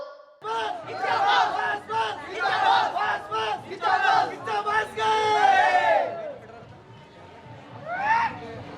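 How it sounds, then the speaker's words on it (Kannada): Crowd of fans in Saragur chanting and shouting cheers for actor Kiccha Sudeep, rhythmic massed voices rising in repeated bursts, loud and close, then a drawn-out collective cry before tapering into scattered shouts. "ಅಭಿಮಾನಿಗಳಿಂದ ಸುದೀಪ್ ಪರ ಜೈಕಾರ ಮೊಳಗಿತ್ತು"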